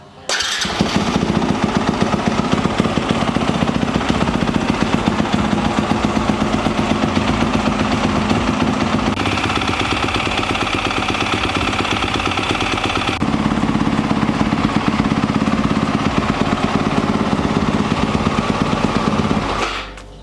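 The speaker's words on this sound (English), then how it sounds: "Of course I still need to run the engine though" A 2021 YZ250F dirt bike engine idles steadily and loudly at close range for the whole stretch, its rough mechanical drone shifting pitch slightly partway through before cutting off.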